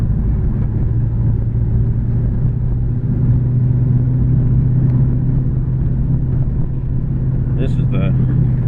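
A 1985 Ford LTD with an AOD automatic transmission cruises along, a steady low engine drone and road rumble heard from inside the cabin as someone talks over it, with a faint lazy shift into overdrive.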